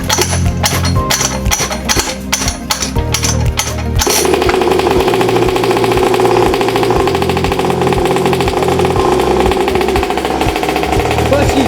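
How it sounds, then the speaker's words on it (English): A built high-compression 50cc dirt bike motor pulled over and then running, a loud choppy engine rattle that settles into a steady rough idle, with a voice speaking over it at times. "this motor actually sounds like a dirt bike, and it's like chomping, and you guys can hear it in the background."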